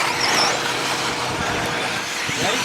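An RC race car's motor snarls with a harsh, buzzing, chainsaw-like whine, loud and continuous and close to the onboard camera throughout the race.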